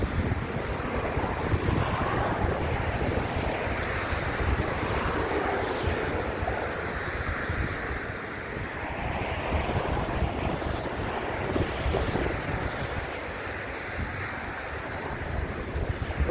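Continuous roar of sea waves mixed with gusting wind buffeting the microphone, steady and loud throughout with no talking.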